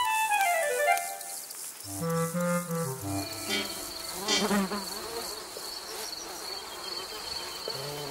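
Insects buzzing close by, a continuous drone with shifting pitch as flies move around, loud and unbroken throughout.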